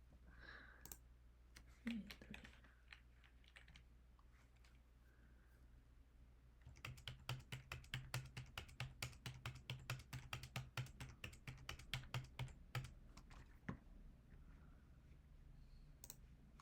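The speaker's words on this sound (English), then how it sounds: "I am so nervous that I'm typing these wrong." Keys on a computer keyboard clatter in a quick, even burst of typing for roughly seven seconds. Before the burst come a few isolated clicks and a faint voice, and a couple of stray taps follow it. The sound is close but quiet.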